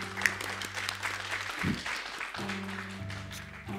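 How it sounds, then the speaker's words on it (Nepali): An audience at a singing competition semi-final claps steadily in a dense burst of applause, with sustained musical tones playing underneath. "एकचोटि उभिएर पनि ताली बजाउनु पर्ला जस्तो छ"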